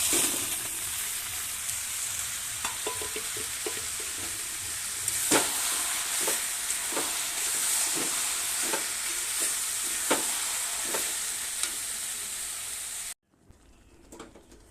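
Boiled moong dal tipped into a hot frying pan for egg tarka, a steady loud sizzle and hiss with scattered scraping stirs, until the frying cuts off abruptly near the end.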